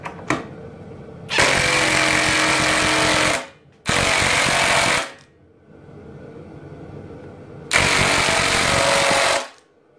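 A Ryobi power tool cuts in three loud, harsh bursts of a few seconds each, separated by pauses of near silence as the tool cuts out.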